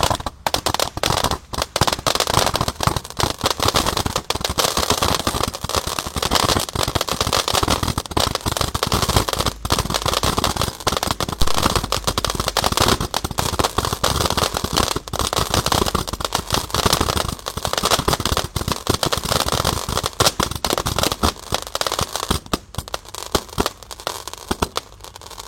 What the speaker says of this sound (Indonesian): Menyalakan banyak sekali mercon dan petasan spesial menyambut Idul Adha 2025.